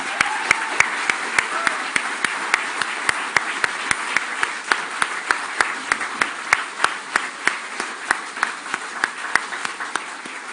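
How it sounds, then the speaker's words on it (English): Dense, sustained audience applause fills a staff awards evening, with steady broadband clapping and sharper individual claps repeating throughout at a constant, fairly loud level. "Another big, huge round of applause, please, for all of them."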